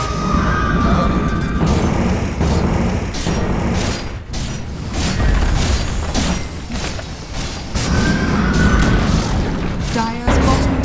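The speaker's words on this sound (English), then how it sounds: "Dire's bottom tower has fallen." Dota 2 match with a tower being destroyed: a loud, dense stretch of booms, crashes and spell-like impacts running throughout, with brief tonal chimes, under an announcer voice.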